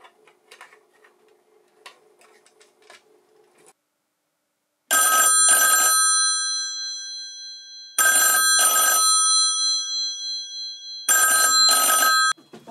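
A US telephone connected to an Ansafone answering machine rings loudly in three long double bursts with gaps of silence between, preceded by faint low mechanical ticking.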